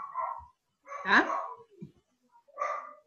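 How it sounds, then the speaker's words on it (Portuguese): A dog barks in a few short bursts spread across the moment, fairly clear and moderately loud, with a brief spoken word from a person in between. "Cachorro latindo é..."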